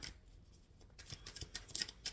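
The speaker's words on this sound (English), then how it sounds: "Spirit, I am shuffling for the Sagittarius collective" Soft, quick riffling and flicking of tarot cards being shuffled, quiet and close, in uneven bursts.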